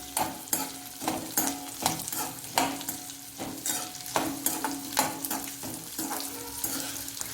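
Onion and capsicum sautéing in a pan, with a rhythmic run of spatula scrapes and tosses roughly every half second over a low sizzle, close and clear with no talk.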